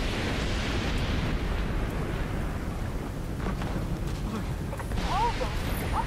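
A rumbling explosion in The Division 2 at the Coney Island Ballpark, a loud, sustained low roar with crackling debris that fills the whole stretch, a brief whistling effect near the end.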